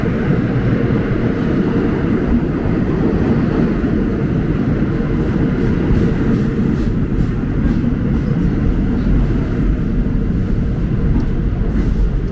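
A Q train at a New York City subway station gives a loud, continuous low rumble and roar that holds steady throughout, with faint high squeals, close and with no voices.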